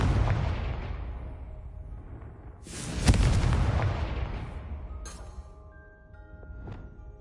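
The Confringo explosive spell from the Hogwarts Legacy video game goes off as a deep, rumbling blast, with a sharp, heavy boom in the middle that trails off into lingering rumble and bright magical chimes.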